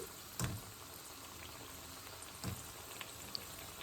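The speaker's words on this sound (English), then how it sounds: "I'm adding my second lot to fry." A second batch of mixed vegetable pakoda with carrots frying in hot oil: soft, steady bubbling with two brief, louder crackling bursts a couple of seconds apart.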